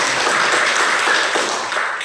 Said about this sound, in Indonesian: Tepuk tangan dulu buat Marcel.